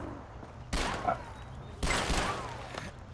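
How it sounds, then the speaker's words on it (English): Gunfire in Far Cry 4 as a player shoots at a charging animal, two loud broadband bursts about a second apart with ringing decay between them, heard over game ambience. "I am shooting it! It's dead!"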